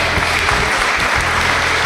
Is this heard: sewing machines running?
no